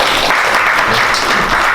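Loud, dense audience applause fills a lecture hall at a business executive course special lecture, steady and continuous throughout.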